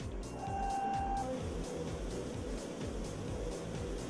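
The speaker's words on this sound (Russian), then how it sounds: "Те стекла, что делают для автомобилей, шлифует машина." An industrial machine grinds the edges of automotive glass in a factory, a steady loud mechanical whirring with a regular pulsing rhythm and a brief high tone near the start, continuous throughout.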